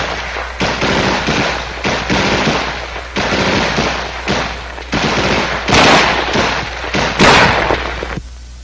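Bursts of automatic M16A1 rifle fire, loud and close, come in several rapid strings with short gaps between them, with no talking over the shots.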